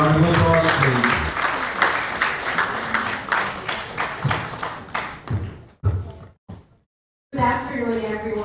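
Workshop audience claps for a doctor just introduced, a round of applause that thins into scattered individual claps and taps before fading to silence, then a voice begins speaking.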